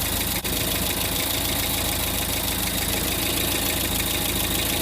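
A van's engine idles while warming up, a steady close mechanical drone with a faint rhythmic knock running throughout and one sharp click near the start.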